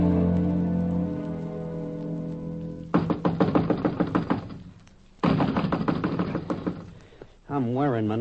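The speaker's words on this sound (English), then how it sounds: "I'm wearing my knuckles to the bones knocking on this door" Knocking on a door in an old radio drama: two bursts of rapid, firm knuckle raps after a held musical note, with a brief pause between them.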